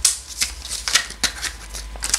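Tarot cards being shuffled for a love and relationship reading, a series of crisp riffling bursts repeating in an uneven rhythm, close and fairly quiet, with no talking.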